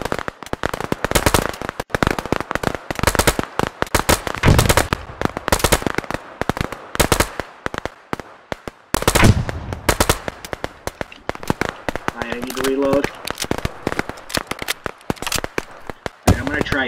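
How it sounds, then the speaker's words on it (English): Sustained suppressing gunfire in the tactical shooter game Operation: Harsh Doorstop, rapid loud bursts of automatic shots crackling almost without pause, with a player talking over them in places. "Laying suppressing fire."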